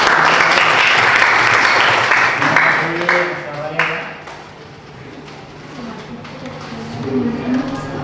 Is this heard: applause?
yes